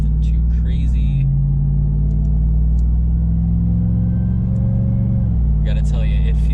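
A RAM TRX pickup truck merges onto a highway under part throttle, its low engine drone rising and falling steadily up close, with a gear change midway and people talking over it at the start and end.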